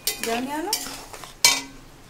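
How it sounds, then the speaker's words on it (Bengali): A spoon stirs ground coriander and spices in a cooking pan, with scraping strokes and a faint sizzle, a sharp clink of metal partway through, and no talk. "আবার আমি এটাকে নাড়বো।"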